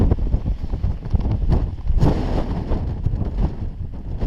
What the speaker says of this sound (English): The wind, as you can imagine, is just tumbling down the face there and swirling around and battering the tents.